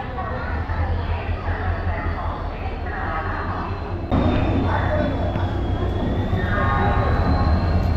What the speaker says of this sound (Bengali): তো এখন ট্রেন ঢুকছে, WDG 4D লোকোমোটিভ।